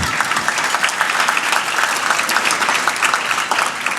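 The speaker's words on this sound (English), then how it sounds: "You can clap for that." A crowd at the Bakersfield State of the City address breaks into loud, sustained applause, a thick even wash of clapping from many hands that holds throughout.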